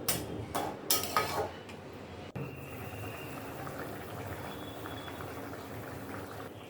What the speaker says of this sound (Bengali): ঢাকনা খুলে মাংসটা একটু নেড়ে দেব